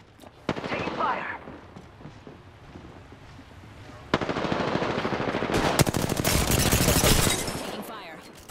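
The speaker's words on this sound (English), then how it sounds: "Taking fire." Gunfire in the Apex Legends battle royale game: a short burst early on, then sustained loud rapid automatic fire, with a voice speaking over it.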